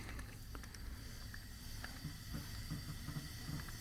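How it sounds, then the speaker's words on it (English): Air hisses steadily from a cylinder of a turbocharged BMW E36 engine under a leak-down test, a continuous faint whistling leak with a few small clicks and taps over low background rumble. "you can hear leaking already"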